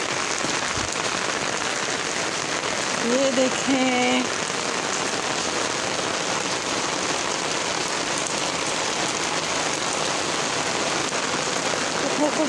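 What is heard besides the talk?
heavy rain falling on plants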